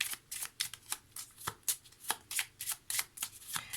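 A deck of Lenormand cards is shuffled by hand in a quiet room, giving a steady run of crisp, papery riffling bursts at close range, each a short rush of card edges, with no talking.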